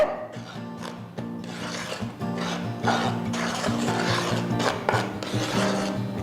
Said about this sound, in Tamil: அவள் பொடி பண்ண அவலை போட்டு ஜஸ்ட் ஒரு வாட்டி நல்லா மிக்ஸ் பண்ணிக்கோங்க